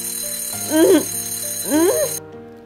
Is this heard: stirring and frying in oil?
no